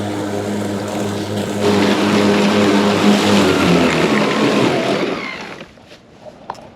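A Ryobi electric lawn mower runs loud and close with a steady whirring drone, then slows and winds down toward the end, leaving a few faint knocks.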